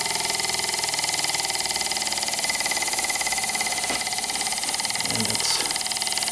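Elmer's #25 wobbler model steam engine runs slowly with a steady, close mechanical chuffing and rattling hum, continuous throughout.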